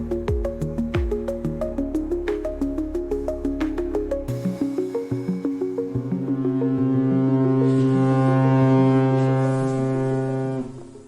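A government ferry bound for Neil Island sounds a long deep horn after a run of rhythmic, pulsing engine beats, the horn swelling loud and holding over the engine's drone.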